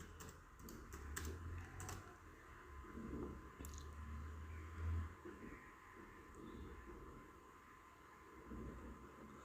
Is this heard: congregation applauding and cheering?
no